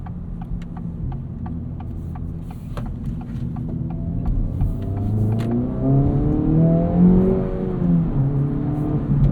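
A 2024 Acura Integra Type S hot hatch engine accelerates, a steady ticking idle-like hum rising into a climbing, droning rev heard from inside the car, loud and continuous with no voices.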